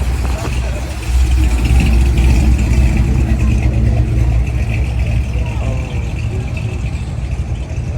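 A classic Ford Mustang Mach 1 drives along the Ocean City boardwalk during a classic car cruising week. Its engine rumbles loud and close in a steady low drone, with people talking nearby.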